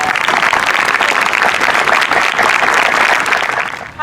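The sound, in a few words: applause from the audience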